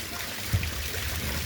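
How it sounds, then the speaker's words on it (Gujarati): Water gushing out from a freshly started pump motor on a village farm, a continuous rushing trickle with a brief low thump partway through, no talking. "આપણે મોટર સ્ટાર્ટ કર્યું છે તો અહીં પાણી નીકળવા મળ્યું છે"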